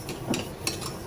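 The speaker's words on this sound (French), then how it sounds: "je vais mélanger avec cette petite huile d'olive là" A spoon stirs couscous semolina with a little olive oil, giving close, soft scraping and light clinks against the bowl over a faint hiss.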